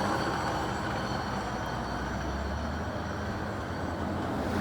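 A hi-rail truck running along railway tracks gives a continuous broadband rumble with steady wheel and road-like noise, constant level throughout, moderately near, no speech.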